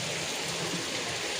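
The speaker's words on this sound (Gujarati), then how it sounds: "મસ્ત વરસાદ આવે છે ને 3 વાગ્યાનો વરસાદ ચાલુ છે ને હજી પણ ચાલુ છે" Heavy rain pours down in Surat, a close, constant wash of dense drops on surfaces with no breaks and no voices.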